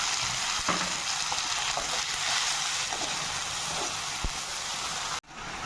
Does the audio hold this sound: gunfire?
no